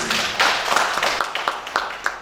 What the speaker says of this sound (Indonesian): pokoknya tepuk tangan buat seniman itu ini